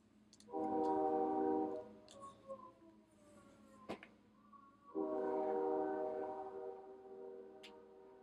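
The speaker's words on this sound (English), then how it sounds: "I'm waiting for the train." Distant train horn heard faintly from indoors, sounding two long, steady blasts separated by a few seconds of quiet, with small clicks and room noise between them.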